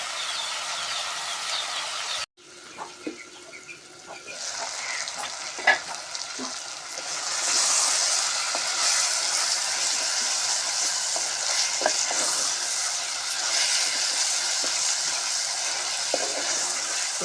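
Broad beans and tomatoes cook in a pan for a homemade curry, giving a steady sizzle with scraping stirs and scattered spatula taps. After a brief break near the start, the frying grows louder and denser, with no talking.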